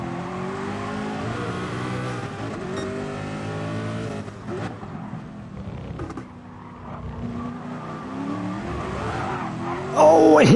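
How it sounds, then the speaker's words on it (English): Group 1 race cars heard on board at Le Mans in Gran Turismo Sport, engine note rising and falling through gear changes with a brief tire squeal, loud and continuous, a voice faintly underneath. "Just listen, going into Indianapolis, these cars absolutely sounding so beautiful."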